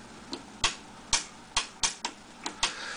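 Clicking of the switches and knobs on an old radio, a series of sharp, separate clicks at an irregular pace, some firmer and some lighter, close and alone.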